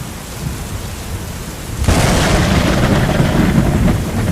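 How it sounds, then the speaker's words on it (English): Thunder in a rainstorm breaks out suddenly midway and rolls on as a loud, sustained rumble over steady heavy rain, with no voices present. "As a deafening peal of thunder rolled over her"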